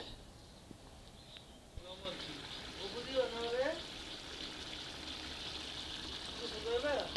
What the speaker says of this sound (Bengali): কষানো হয়ে গেলে এবার আমি ঝোলের জন্য পানি দিয়ে দিব।